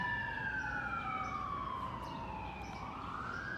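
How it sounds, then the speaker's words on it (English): Emergency vehicle sirens wail on a city street, a loud sweeping tone that glides steadily downward and then climbs again, sustained over a constant rumble of traffic. "Especially if they have the sirens on like right now"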